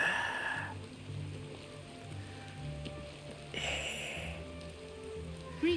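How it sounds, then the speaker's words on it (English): Steady rain falls in the Oblivion video game, heard as a soft, even hiss with light patter over a low ambient music bed. "It's raining again."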